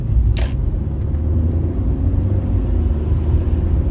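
Steady low engine rumble and road noise inside a moving car, constant and fairly loud throughout with a brief higher hiss near the start.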